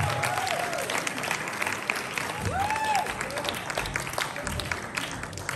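Audience applause and cheering at a live morning show, a steady wash of clapping with scattered whoops and whistles sustained throughout, filling the room at moderate distance.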